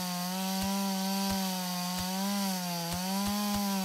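A chainsaw cuts wood in a survival farming PvP video game, with a steady droning engine whine broken by regular rasping bite pulses, loud and close with no talking.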